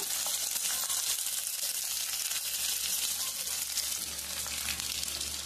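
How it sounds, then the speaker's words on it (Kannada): Onions fry in a pan for tomato chutney, giving a steady, bright sizzle and crackle that runs without a break throughout. "ಇದು ಅಷ್ಟೇ ಚೆನ್ನಾಗಿ ಕೆಂಪು ಆಗೋವರೆಗೂ ಕೂಡ ಹುರಿಬೇಕು ಇದನ್ನ, ಈರುಳ್ಳಿ ಕೂಡ."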